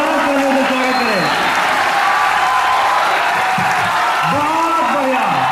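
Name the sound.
audience applause, whole hall standing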